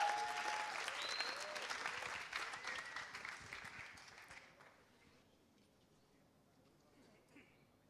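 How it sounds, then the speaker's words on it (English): An audience at a camp event bursts into loud applause that gradually fades out over several seconds, leaving a quiet room with faint murmurs at the end. "a big applause"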